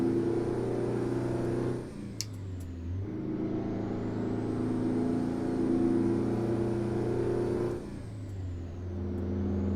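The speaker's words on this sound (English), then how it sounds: "I am liking this Kenworth. It pulls nice and hard." A Kenworth truck engine in American Truck Simulator pulls hard in a loud, steady drone, dipping twice as it shifts gear before climbing again.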